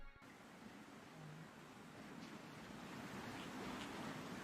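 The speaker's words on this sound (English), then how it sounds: "It's just water. I think I just hear water." Water ambience in the video game Wild Hearts, a faint, steady wash of flowing water and surf-like noise that swells gently, with a brief click at the start.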